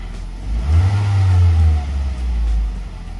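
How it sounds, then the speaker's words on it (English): A car engine revs as throttle is applied after a throttle body cleaning, rising in two swells from idle and settling back between them, loud and close with no talking. "Now let's give it some throttle."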